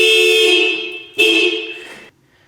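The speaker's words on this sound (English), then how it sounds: "if you try to open the door from the inside while the security system is activated, the alarm will go off" An Acura NSX security alarm sounds loud and close after the door is opened from the inside while the system is armed. It gives two long, shrill electronic tones, the second beginning just as the first fades, then cuts off abruptly.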